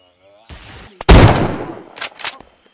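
Gunfire in the survival game Unturned: a couple of sharp loud shots and a burst of reports over about three seconds, preceded by a brief tone, with a voice calling out.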